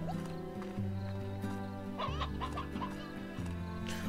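Chicken clucking in the game Slime Rancher, a few short clucks over a steady layer of tonal game music.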